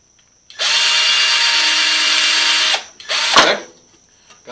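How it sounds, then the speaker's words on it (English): A power drill with the correct-size bit bores a pivot hole through wood in a home shop, a loud steady whine for about two seconds, then a brief second burst as the bit is backed out. "now I'm going to drill a hole for that to pivot on. I got the right size bit in my drill."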